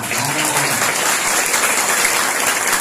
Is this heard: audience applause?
yes